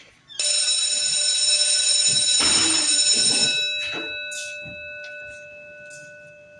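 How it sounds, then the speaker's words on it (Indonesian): A school entry bell rings for the start of morning class, a steady electric ringing that holds for about three seconds and then fades, followed by a few faint shuffling sounds with no talking. "bel tanda masuk pun berbunyi"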